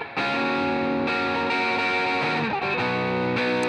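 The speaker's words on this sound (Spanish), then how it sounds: "Este Clone Reverb me parece que suena chévere." Electric guitar played through a UAD Dream '65 Clone Reverb amp emulation modeled on a Fender, sustained distorted chords with chorus-like shimmer ringing loud and steady, chords changing every second or so, with no voices.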